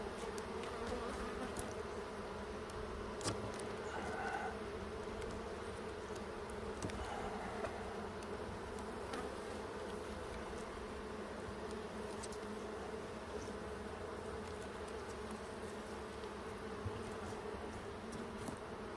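A dense, steady hum of many honey bees, mostly winter bees, buzzing together in an opened hive, slightly defensive, constant and close throughout, with a few faint clicks and knocks.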